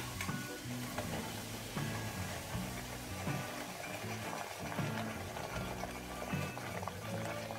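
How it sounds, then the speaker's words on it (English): Flour being whisked into hot oil for a gumbo roux, giving a steady close sizzle and frying hiss with a continuous scraping, stirring rhythm throughout. "We're going to start adding our flour to our oil until we start getting the consistency of like wet sand. And then we are going to keep whisking."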